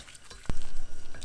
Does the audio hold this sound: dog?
no